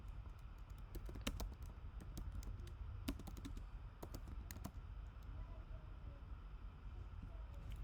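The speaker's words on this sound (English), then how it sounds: "why am I quick to type twice?" Typing on a computer keyboard, sparse quick key clicks in short bursts over a steady low hum, fairly close but quiet, with no talking.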